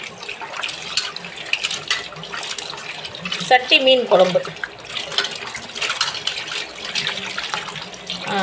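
Water runs steadily from a tap through the whole stretch, with splashing as fish is washed in the stream while a person talks over it.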